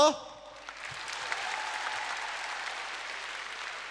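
An audience at a song evening applauds, the clapping rising after a short spoken line and then holding as a steady, moderately distant wash of hands.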